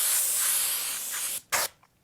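An airbrush at high pressure sprays fluorescent yellow paint onto a T-shirt, giving a steady, loud hiss that cuts off, then a short second burst, heard close up and alone.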